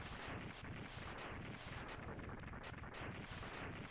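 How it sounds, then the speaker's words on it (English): In the Mega Man X3 video game, a defeated boss falls to the ground and explodes in a dense, continuous barrage of rapid booming blasts, loud and crackling throughout with no break. "Only when he's defeated does he fall down to the ground and explode."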